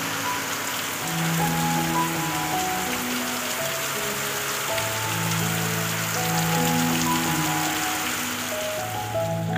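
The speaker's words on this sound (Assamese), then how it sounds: "আৰু দেখিছেনে ইমান বৰষুণ ৰাতিপুৱাই" Heavy morning rain falls in a steady, loud, even roar of drops hitting surfaces close by, continuous and unbroken, with no one speaking.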